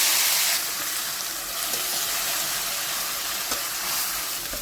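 Onion paste hits hot oil in a pan, giving a loud, continuous sizzle and hiss that stays steady throughout.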